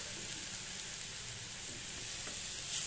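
Shredded cabbage and grated carrot fry in a pan for veg momo filling, a steady close sizzle with soft crackle that holds evenly throughout, no voices.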